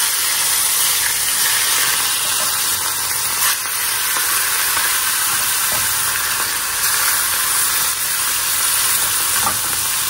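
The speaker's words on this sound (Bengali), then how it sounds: "এই যে কাতলা মাছকে ছোট ছোট পিস করে না একটু ভাজা করে নিব" Small pieces of katla fish frying in hot oil, a steady loud sizzle and crackle that continues without a break, with faint stirring and no talk.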